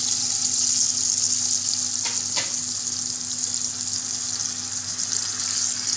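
Green chillies coated in masala frying in hot oil in a pan, a steady loud sizzle throughout with a couple of brief stirring scrapes near the middle.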